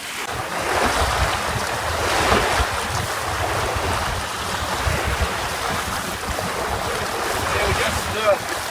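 A small trailer-sailer yacht sails with one reef in the main and a number 3 jib, wind buffeting the microphone over constant washing waves and hull splash, loud and close throughout.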